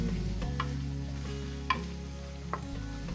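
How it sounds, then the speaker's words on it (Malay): Shallots and garlic sauté in cooking oil in a wok with a soft sizzle, broken by a few distinct scraping stirs of the spatula. Background hum sits underneath, and nobody speaks. "Tumisan bawang ni pastikan ditumis sehingga ianya betul-betul masak, naik bau dan kelihatan sedikit keperangan."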